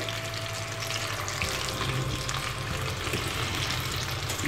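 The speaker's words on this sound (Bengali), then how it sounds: "ধৈর্য সহকারে নিয়ে ভেজে নিতে হবে নাগেটসগুলোকে" Fish nuggets deep frying in oil give a continuous, even sizzle, close and loud, with a dense crackling hiss that holds steady throughout.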